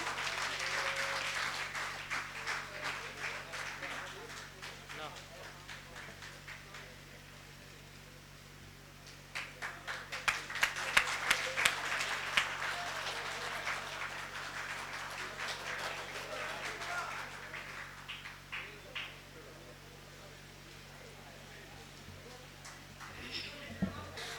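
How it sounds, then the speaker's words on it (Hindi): Audience applause at an All India Mushaira poetry gathering, a steady wash of clapping throughout that swells louder in the middle, with a low constant hum underneath. "आप हजरात की जोरदार तालियां बजें।"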